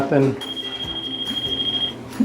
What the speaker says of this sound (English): it beeps. That tells you that it's live, it's hot